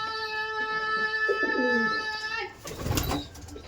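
Kalanka pigeons in a loft give low cooing calls under a steady tonal hum, ending in a brief burst of scuffling or flapping noise.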